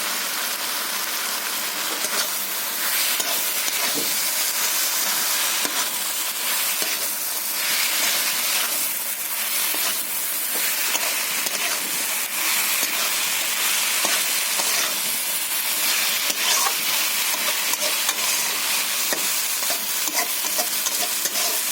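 Chillies fry and get stirred in a pan with chikni greens, potato, brinjal and prawns, giving a steady loud sizzle with frequent scraping stirs throughout.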